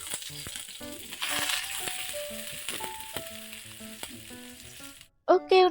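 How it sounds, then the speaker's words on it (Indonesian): Shallots and garlic sauté in a pan with a strong, close sizzle and occasional stirring scrapes over faint background music. A short, loud tonal burst cuts in at the very end. "untuk numisnya di sini aku masukin dulu bawang merah dan juga bawang putih"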